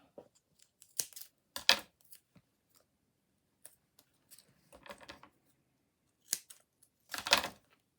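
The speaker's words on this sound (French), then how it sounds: "je vais mettre la mousse 3D. Avec ces ciseaux-là." Scissors cut through 3D foam for a handmade Mother's Day card: quiet, close, irregular snips and crisp cuts separated by short pauses.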